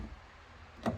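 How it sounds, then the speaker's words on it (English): A single solid thump near the end of a quiet second, a first-generation Scion xB car door swinging shut close by. "close the door."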